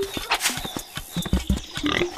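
Pig oinking in The Legend of Zelda: Link's Awakening: a string of short, clipped game grunts, close and fairly loud, scattered irregularly over a bright chiptune-style background with other beeps and jingles.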